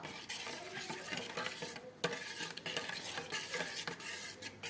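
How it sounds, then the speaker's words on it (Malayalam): A spoon mixing yeast and water in a bowl, quiet repeated clinks and scrapes against the sides in an irregular rhythm, close and soft, no talking. "നല്ലപോലെ നമുക്ക് സ്പൂൺ കൊണ്ടൊന്ന് മിക്സ് ചെയ്തിട്ട് ഇതൊന്ന് അടച്ച് വെക്കാം"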